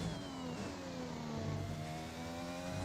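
A Formula 1 race car engine in F1 2021 held at full throttle, a loud steady high-pitched howl with rising harmonics as it accelerates through the gears, with no talk over it.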